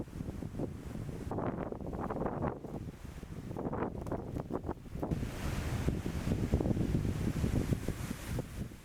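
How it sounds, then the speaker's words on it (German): Strong gusty wind buffets the microphone in heavy rumbling surges, loud and continuous, with a sea-like roar underneath and no voices. "Der Wind bläst sehr stark und mit seinen Turbulenzen kündigt sich Veränderung an."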